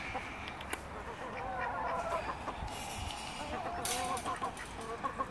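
Chickens clucking inside a chicken house on an allotment plot, soft scattered clucks over a busy rustling background, with voices now and then.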